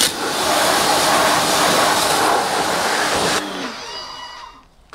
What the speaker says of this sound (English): what I've got on there is the 40 degree tip on the end of the pressure washer